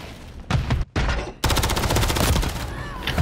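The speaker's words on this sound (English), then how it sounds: "I'm gonna pull out an SMG." Rapid SMG gunfire in a video game, dense bursts of automatic shots, loud and close, broken by a couple of brief pauses before a long sustained burst.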